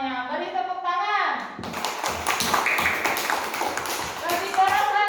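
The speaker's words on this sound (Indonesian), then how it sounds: "Beri tepuk tangan." Children clap together in a classroom, a dense burst of applause that rises and sits under a voice and children's chatter, close and fairly loud.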